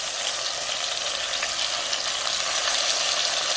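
Tomatoes and onions fry in a tablespoon of oil for Mexican beef soup, giving a steady close hiss and crackle throughout, with no talking.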